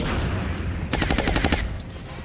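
Gunshot in the video game XCOM: a loud, fast burst of roughly ten automatic shots lasting under a second, over a steady background of game sound.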